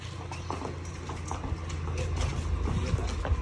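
A Marwari horse in training clip-clops at a steady walking rhythm on hard ground, the close hoofbeats continuing under some low background voices.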